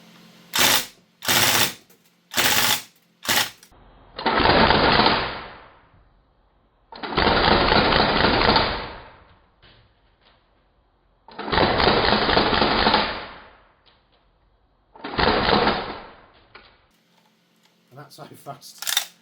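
A Northeast MP2A1 airsoft gun with an aluminium bolt and CO2 magazines fires a few quick single shots, then several loud full-auto bursts of rapid mechanical clatter, each lasting a few seconds, separated by pauses.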